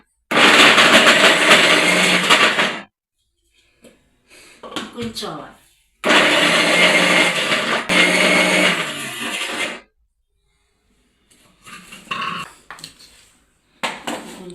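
A mixer grinder grinding ridge gourd peel, two loud whirring bursts of a few seconds each separated by pauses, with someone speaking in the gaps and a brief final pulse.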